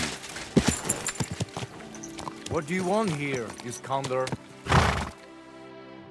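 Horse hooves clopping and a horse whinnying in the medieval video game Kingdom Come: Deliverance 2, heard alongside someone talking and some scattered thuds.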